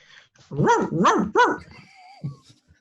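A man imitates a dog with his voice, giving three loud, close, rhythmic barks followed by a short whine and a softer final yelp.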